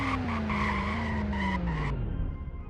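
Sports car in a racing video game braking hard from over 150 mph, a loud continuous tire screech with a falling engine tone that slides down over about two seconds as the car slows, then fades.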